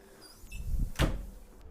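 Drawer in a Hanoi hotel room sliding open, a short rumbling scrape followed by a sharp knock as it stops, close by and fairly loud in a quiet room.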